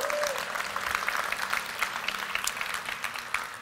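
Audience applause at a tech talk event: an even, fairly soft patter of many hands clapping throughout, thinning slightly toward the end.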